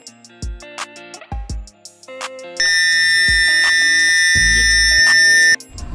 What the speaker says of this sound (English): we're going to test the fire alarm system